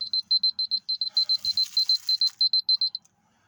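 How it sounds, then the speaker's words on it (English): An alarm clock beeps loudly in quick bursts of four, repeating steadily for about three seconds before stopping. "my alarm is ringing right now"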